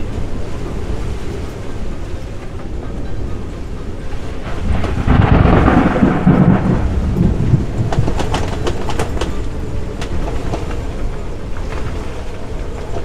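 Thunderstorm rumbling and crashing around a boat riding at anchor, a loud rolling thunderclap swelling in the middle over a steady background roar of wind and rain, with sharp crackling strikes following.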